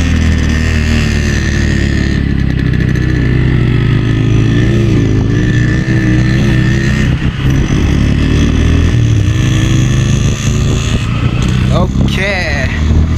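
A motorbike rides along with its engine droning steadily up close, holding a loud, even tone with slight shifts in pitch as it revs, while voices talk over it.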